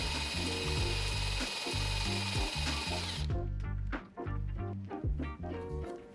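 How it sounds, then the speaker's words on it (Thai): A cordless drill fitted with a Forstner bit bores a half-circle hole in wood: the motor whines while repeated grinding bursts of cutting pulse in a regular rhythm, close and loud, then the whine drops away as the cutting continues. "การเจาะครึ่งวงกลมก็สามารถทำได้เช่นกัน"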